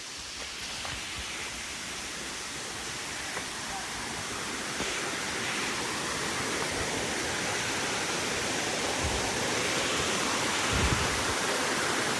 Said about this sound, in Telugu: Katika water falls